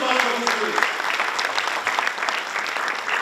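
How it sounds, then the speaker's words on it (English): A university audience applauds students at Amity University in Greater Noida: sustained, crisp clapping from many hands, close and loud, with a voice speaking briefly over the start. "A huge applause for these students."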